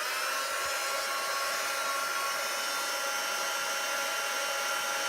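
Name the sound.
heat gun heating shrink plastic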